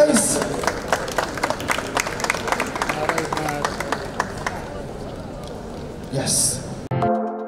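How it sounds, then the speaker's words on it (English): Audience clapping at a fashion pop-up show, scattered irregular claps from a crowd under a speaking voice, fading out before a brief loud burst at the end. "Clap, guys!"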